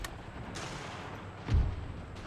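Troops open fire in a video game battle, with a few muffled distant shots and one heavier boom over a rumbling background of combat noise.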